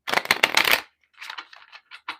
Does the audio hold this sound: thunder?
no